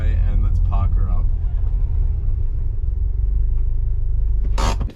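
A 2011 Subaru WRX with an Ultrex short shifter idles with a loud, steady low rumble close by as it is parked, with someone talking over it and a short noise at the end.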